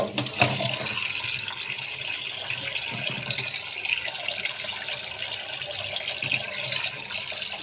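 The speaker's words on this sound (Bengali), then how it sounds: "মাছগুলো এখন ভালো করে ধোবো" Fish are rinsed under a running tap, with a steady close hiss of flowing water and small splashes as the fish are handled beneath the stream.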